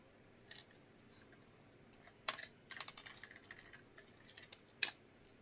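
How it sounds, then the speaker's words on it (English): Small screws from a Jolt clone blaster are dumped out onto a table, making faint scattered metallic clicks and rattles, with a cluster of taps and one sharper click near the end. "dump the screws out on the table."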